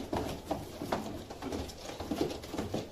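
Pigeon cooing close by, a series of soft, low, rhythmic coos repeating about every half second over faint background rustle.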